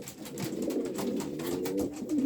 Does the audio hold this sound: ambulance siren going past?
no